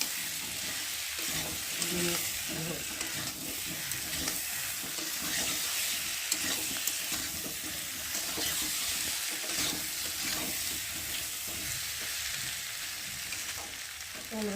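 Ginger, cumin and garlic paste is stir-fried with potatoes in a pan for an egg curry, a steady close sizzle with scraping spoon strokes throughout and a faint voice now and then.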